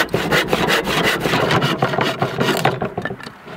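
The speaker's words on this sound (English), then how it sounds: "I'm just using a handsaw." A handsaw cutting a scrap 2x4 wooden board, loud close rasping strokes in a quick steady back-and-forth rhythm, easing off near the end.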